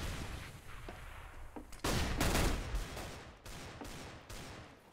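Rapid gunfire from a Counter-Strike esports match on Cobblestone or Cache, with Deagle pistol shots and rifle bursts crackling loud and dense in several clusters over steady background game noise.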